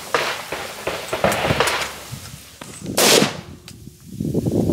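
A gun firing cheap steel ammunition lets off several sharp, close cracks spread unevenly across a few seconds, with handling noise between shots.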